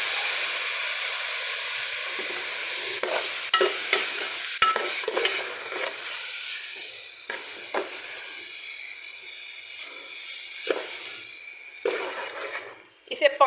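Mungra cooks covered in its own steam over low heat, with a soft, steady hiss and sizzle broken by occasional stirring scrapes. A voice talks over the cooking.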